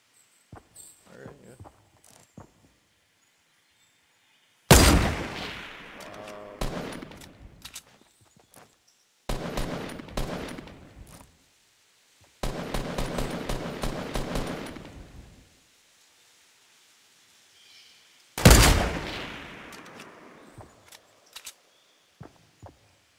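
Fortnite gunfire comes in several separate bursts of rapid automatic shots, loud and close, with a few heavy single blasts and quiet gaps between the bursts.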